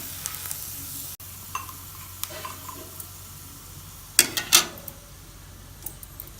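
Tindora (ivy gourd) pieces frying in hot oil, a soft steady sizzle with scattered stirring clicks and a couple of louder splattering bursts near the end, no talking.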